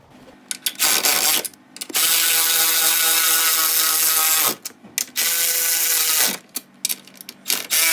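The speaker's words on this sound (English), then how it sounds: "we just have to do up these top nuts" A ratchet tightens the top nuts on Subaru WRX STI coilovers, heard as three long runs of rapid, loud clicking separated by brief pauses, with a few short bursts between, close up and with no talk.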